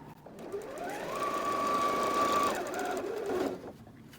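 Computerized sewing machine running close by as it sews a seam, a steady whirring hum with a rising and falling tone that builds, runs for a couple of seconds, then stops with a short fade.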